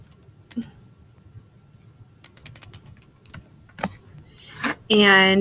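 Student names typed on a computer keyboard make a quick cluster of light key clicks, sparse and close. A voice speaks briefly at the end.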